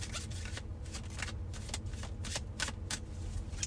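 Tarot cards are shuffled by hand in a quiet room, giving a quick run of crisp riffling flutters and soft slaps repeated in bursts, close and fairly faint, with no talking.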